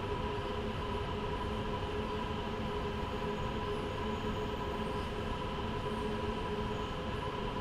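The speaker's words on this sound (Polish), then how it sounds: "słyszę po dźwiękach lokomotywy, że przyspieszamy" Simulated BR 187 electric locomotive in Train Sim World 2 accelerating downhill on a steep rail ramp, a steady loud drone of motor whine and rolling wheel noise with sustained tonal hum, continuous and close throughout, no talking.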